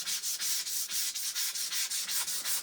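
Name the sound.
sanding wood with 400 grit sandpaper block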